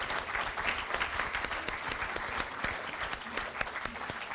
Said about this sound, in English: I just thought it would be a moment where we could pause and just clap a little bit for all of the inductees that we have heard so far